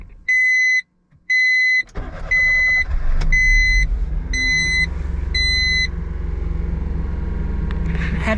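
A Honda kei car with 166,000 km on it cranks and fires into a steady, close idle, with a few evenly spaced electronic warning beeps before and during the start.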